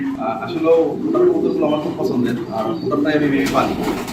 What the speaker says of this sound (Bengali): আপনার খামারে বিশাল বিশাল কবুতর রয়েছে